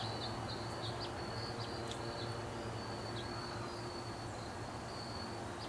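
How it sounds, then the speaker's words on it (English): Crickets pulse steadily outdoors while a thin, high katydid buzz comes and goes in short bursts, all at a constant moderate level over a low background hum. "another high-pitched buzz of a katydid or something, crickets pulsing"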